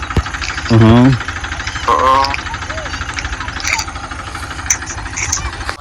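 A tractor engine idles with a steady low rumble throughout, while a voice speaks briefly near the start and again around the two-second mark.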